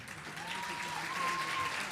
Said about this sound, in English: Cadets, a round of applause for the